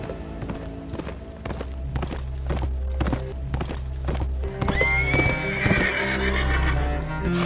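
Horse from a historical drama about Sultan Salahuddin Ayyubi neighs sharply over a steady clip-clop of hooves, with a low rumble beneath; the whinny is loud and close, the hoofbeats rhythmic throughout.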